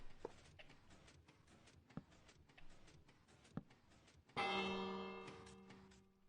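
A bell in Minecraft Bedrock rings once, loud and sustained, after a stretch of quiet ticking clicks from a redstone monostable contraption, with no talk.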